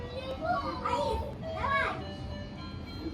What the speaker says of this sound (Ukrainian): Мені діти граються, тому трішки шумлять.